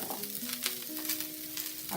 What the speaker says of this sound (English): The broccoli is going to take the most cooking, so I'm going to put that straight in and just toss it about a bit.